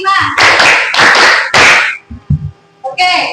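Hand clapping in a counting clap game led by a teacher, with quick bursts of claps in three dense groups followed by a few softer taps, mixed with voices chanting along.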